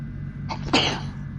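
A single sharp sneeze, a quick intake followed by a loud burst, over a low steady hum.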